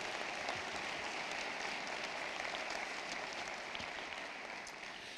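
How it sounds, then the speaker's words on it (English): An audience at an ethics-day event gives a round of applause for the sponsors, a continuous, even patter of many hands heard from a moderate distance with no talking over it. "a nice round of applause for them"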